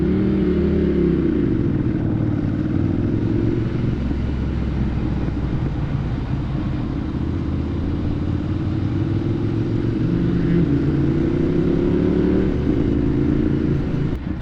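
A Ducati Monster 796 motorcycle being ridden, its engine droning steadily and loudly throughout with gentle rises and falls in pitch and constant wind rumble, no talking.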